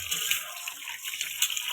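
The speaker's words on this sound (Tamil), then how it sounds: "ஃபைனலாக உப்பு மஞ்சத்தூள் போட்டு நல்லா வாஷ் பண்ணிக்கோங்க." Running water splashes steadily over raw duck meat being washed with salt and turmeric in a home kitchen, a continuous close hiss with small irregular surges and no talking.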